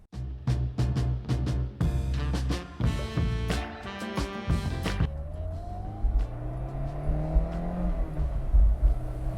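A 2001 Honda S2000 AP1 is floored toward 9,000 RPM, and its intake howls through quick rising revs with sharp gear-change breaks, then settles into a smoother cruising whir and lighter throttle.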